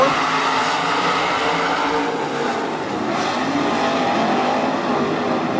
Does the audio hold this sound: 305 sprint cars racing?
yes